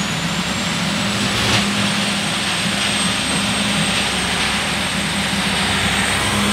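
A Bandit 4680 wood chipper runs at speed early in the morning, a loud, constant mechanical roar with a thin high whine riding on top, with no voices.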